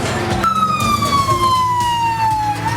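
Emergency vehicle siren, an ambulance responding after an attack in Gaza, sounds as one long loud wail that glides slowly downward over about two seconds, set against steady street noise and traffic rumble.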